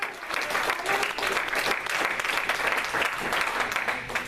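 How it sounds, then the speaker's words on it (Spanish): A church congregation bursts into sustained, loud applause, dense clapping filling the room for several seconds with a faint murmur of voices beneath. "Dale otro aplauso al Señor."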